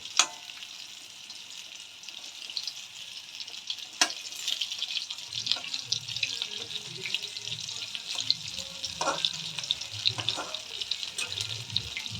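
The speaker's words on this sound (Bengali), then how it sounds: "ওই পিঠটা উল্টে দেব দিয়ে সেম লাল করে ভেজে নেবো" Oil sizzles and crackles softly as pointed gourd fries in a pan, with occasional clinks and stirring noises breaking through the steady hiss.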